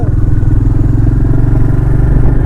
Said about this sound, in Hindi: अरे ये तो मैं थोड़ा सा ही घुमा रहा हूँ मैं एक्सीलेटर, और ये एकदम से पिक कर रहा है।